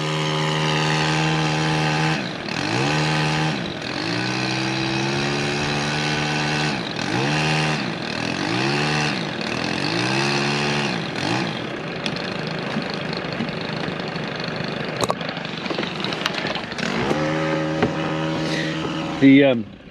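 A small two-stroke long-handled chainsaw drones and revs in repeated rising and falling cycles while cutting a tree, close and loud, with speech faintly underneath.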